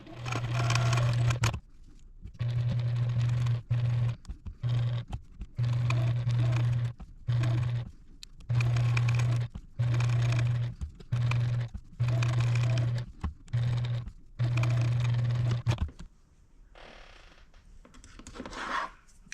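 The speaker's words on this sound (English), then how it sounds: "sew it down and stitch around the leaf" A home sewing machine top-stitches around a fabric leaf on a grape-themed potholder, running in about ten steady humming bursts separated by short pauses, then falling quiet near the end.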